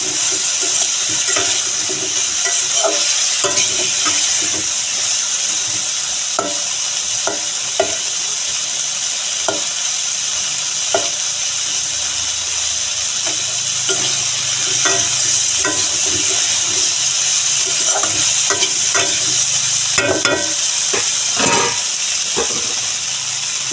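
Spice paste for a tangra fish curry with cauliflower fries steadily in a pan, a continuous close sizzle and hiss with scattered spoon scrapes and stirring knocks throughout, no voices.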